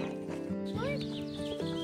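Miniature horse on a ranch whinnying during feeding, a short rising-and-falling neigh close by over low background noise and a voice.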